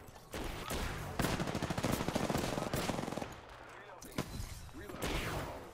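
Gunfight in the battle royale game Apex Legends, dense overlapping automatic fire in rapid bursts with scattered single cracks, loud and close, with a voice talking briefly among the shots.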